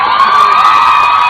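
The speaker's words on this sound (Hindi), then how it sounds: "भरपूर हौसला अफजाई कीजिए और तालियां बजाइए" Audience applause and cheering at a school sports awards ceremony, a continuous roar of crowd noise with bright, high shouts that stays loud and steady throughout, with no speech.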